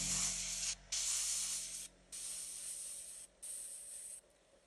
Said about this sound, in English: So just sort of just feathering the airbrush.